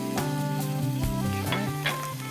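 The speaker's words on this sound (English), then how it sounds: "our beef is cooking" Beef browning in a hot pan for braciole, a steady close sizzle of frying with brief stirring and scraping sounds, alone without talk.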